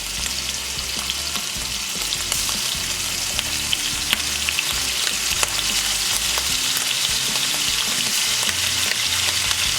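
Bear heart coated in musket powder fries in hot bear grease in a pan, giving a steady, close, dense sizzle with scattered pops for the whole stretch and no voices.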